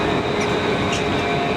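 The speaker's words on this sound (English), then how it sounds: "So here we have the old and the new. New tram. It stops right next to the canal." A new Luas red line tram rolls past close by at the Blackhorse stop beside the Grand Canal in Dublin, giving a brief, steady rumble with a faint wheel hiss.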